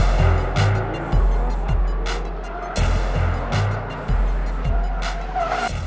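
Drift race cars scream through a Formula Drift round in Irwindale, engines revving hard in repeated rising and falling surges with tires squealing, loud and close, as cars pass one after another.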